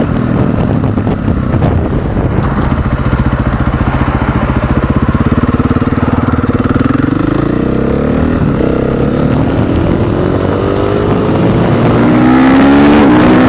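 A supermoto motorcycle engine on an expressway stretch of road drones steadily and loudly up close, then its pitch sweeps upward as the rider accelerates through the gears near the end.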